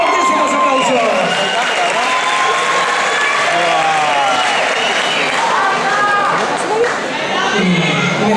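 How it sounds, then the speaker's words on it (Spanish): Audience at a Just Funk 2012 dance event applauding and cheering, loud sustained clapping with whoops and shouts from a crowd, steady throughout. "¡Fortísimos aplausos!"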